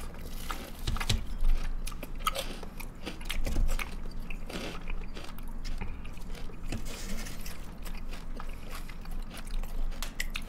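Dumplings dipped in tteokbokki sauce are bitten and chewed up close in wet, crunchy mouthfuls that repeat steadily, under a constant layer of background music.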